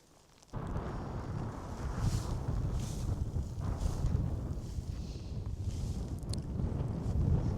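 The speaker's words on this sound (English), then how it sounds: "Sounds like the wind's picking up" Strong, steady wind roars across an open mountain top at sunset during a solo wild camp, a loud continuous rushing buffet that starts abruptly and holds without letup.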